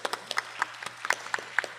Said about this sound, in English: A big round of applause for Balaskandan ji.